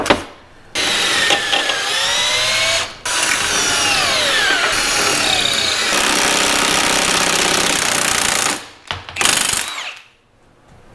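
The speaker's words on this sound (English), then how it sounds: "One other suggestion was to drill out the rubber." A power drill bores out a rubber suspension bushing, whining and grinding loudly in several long bursts separated by brief pauses, close up and without talking.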